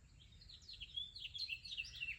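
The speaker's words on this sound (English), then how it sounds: "Listen to the birds." Birds singing in a backyard garden in Ohio, faint high chirps and warbling phrases repeating over a couple of seconds against quiet low outdoor background.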